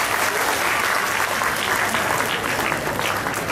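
An audience at a school prize distribution claps loudly and steadily for a young prize winner coming onto the stage, a short burst of dense applause.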